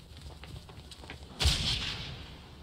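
A single gunshot from a Sopranos TV episode booms faintly at a distance, a muffled blast followed by a short fading rumble against quiet background noise.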